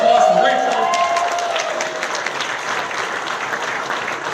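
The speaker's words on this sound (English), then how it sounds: "Round of applause for Rachel." A crowd at an awards event applauds an Olympic athlete being introduced, a thick spread of clapping and some cheering that starts loud while a voice is still trailing off, then settles into even clapping.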